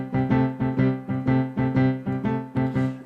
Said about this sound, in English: So here's a boogie woogie piano riff, left hand, that's been around for a long time.